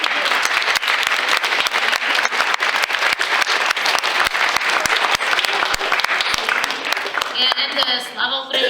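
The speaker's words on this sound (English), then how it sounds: "I want to give a big applause to the panelists and the greatest artists." A crowd applauds panelists and artists at a Ukrainian cultural event, dense sustained clapping with sharp individual claps cutting through, then talk rising as the applause fades at the end.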